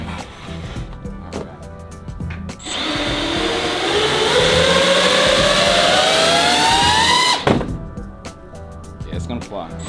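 A small hobby drone, built as a Baby Yoda figure, has its motors armed on a bench and spun up. The whine rises steadily in pitch for several seconds and then cuts off abruptly, with faint clicks before and after.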